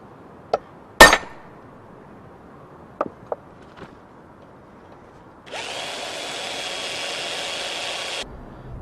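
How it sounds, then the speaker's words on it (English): An electric drill bores rivet holes in a knife blade made from an old file, whining steadily for about three seconds near the end after a few sharp metallic clinks and taps. "The next thing to do is to drill 3 holes for the rivets that will hold the handle on."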